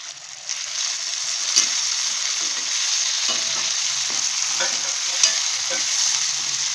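Steady, close sizzling of ginger paste and tomatoes frying in a hot pan for dal makhani, with occasional scraping and clinks from stirring; no voices.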